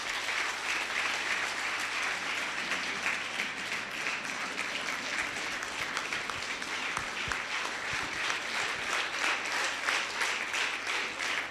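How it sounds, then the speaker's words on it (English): Long, even applause from an audience at a foundation day anniversary event, a dense and moderately distant roar of clapping that continues steadily without speech. "big round of applause"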